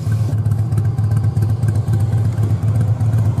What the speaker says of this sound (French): écoute comment c'est beau le bruit des Harley